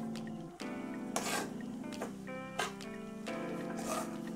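A mohanthal mixture is roasted and stirred in a heavy-bottomed pan, producing rasping scrapes and rubbing strokes in bursts over a steady background hum, with no talk.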